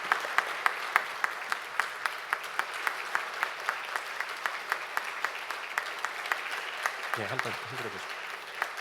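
A crowd at a university presidential inauguration ceremony at Handong University claps steadily, its even, rhythmic beats continuing while a voice speaks briefly near the end.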